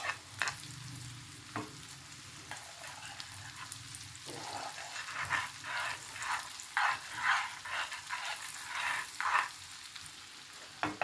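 Tadka spices sizzle and crackle in hot oil for daal, with bursts of spattering and occasional stirring clatter, close and continuous.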